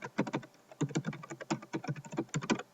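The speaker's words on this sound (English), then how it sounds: "So I'm going to type that in." Fingers type on a computer keyboard during a screencast, producing quick bursts of close, crisp keystrokes separated by short gaps.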